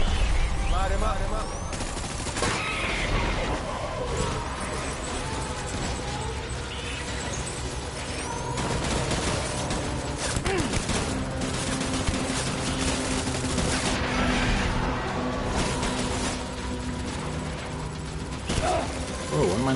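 Sustained gunfire in Death Stranding, with bursts of automatic shots and scattered cracks carrying on for a long stretch over steady background rumble and mechanical clatter, with a voice talking at times.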